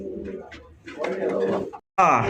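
Male fancy Rasgolla pigeon cooing close by, low throaty coos in short pulses, with someone talking over and between them.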